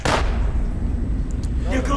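Gunfire erupts in the video game Resident Evil: Operation Raccoon City, a loud blast at the start followed by a rumbling tail and a few later sharp hits.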